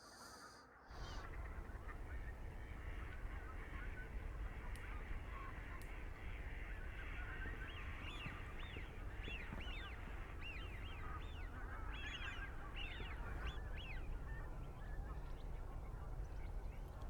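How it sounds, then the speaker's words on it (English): Many wildfowl on the Dee Estuary marsh in winter honk and call in agitated alarm, overlapping bursts, fairly distant, over a constant rumble of wind or ambient noise, as a marsh harrier forages. "You can hear the wildfowl on the scraper screaming in alarm."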